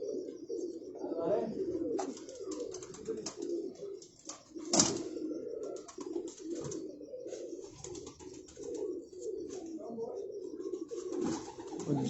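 A large-headed racing pigeon at a pigeon loft in Rawalpindi, cooing softly and repeatedly among other pigeons, with a low steady murmur of coos and occasional wing flutters in the background.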